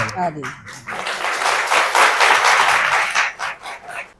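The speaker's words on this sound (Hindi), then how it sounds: "तालियों की गड़गड़ाहट बता रही है" Applause from a gathered audience at a spiritual gathering honoring a sadhu, dense sustained clapping swelling for a few seconds and then breaking into scattered claps, with a voice briefly heard at the start.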